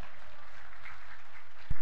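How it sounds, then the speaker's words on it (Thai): A church congregation at a Christian camp claps for God in a soft, continuous spread of applause heard from a distance, with a sharp thump at the very end. "ปรบมือกับพระเจ้านะครับพี่น้อง"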